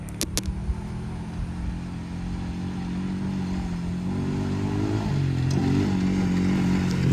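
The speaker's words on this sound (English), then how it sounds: "Same four-wheeler." A Honda Rancher 420 four-wheeler ATV engine runs at a steady, unbroken drone, close and fairly loud, with a few sharp clicks right at the start.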